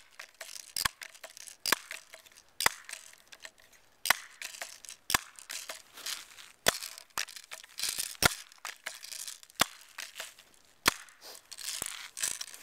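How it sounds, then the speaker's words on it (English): A Crosman Pumpmaster 760 air rifle is pumped and fired up close: a string of sharp, irregular clicks and snaps with soft rustling between them, fairly quiet overall. "I'll pump it 10 times and shoot at the milk carton."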